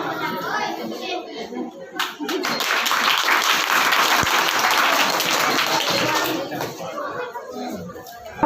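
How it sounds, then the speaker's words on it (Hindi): Applause from an audience at a Bihar Diwas school celebration, a burst of steady, dense clapping that swells loudly for several seconds and then tapers off, with some crowd chatter and children's voices around it. "ताली को बजाओ।"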